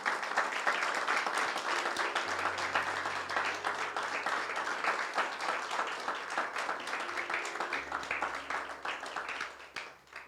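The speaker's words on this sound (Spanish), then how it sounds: "¿Cuánto le dan un aplauso a Cristo?" A church congregation applauds for Christ after a pastor's sermon, a steady, dense wash of clapping that holds for several seconds before thinning out, with a faint low hum beneath.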